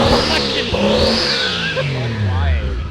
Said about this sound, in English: what's the point of having a turbo car if you can't hear the turbo?